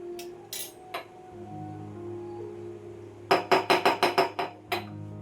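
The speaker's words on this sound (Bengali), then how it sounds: "মশলাটা রেডি করতে গিয়ে মনে পড়লো জিরের গুঁড়োটাকেও রিফিল করা হয়নি, ওটাকে এখন রিফিল করে নিতে হবে।" Refilling a cumin powder container in a home kitchen brings a few scattered clinks, then a quick run of about seven sharp taps on a hard container, close and fairly loud against a quiet background.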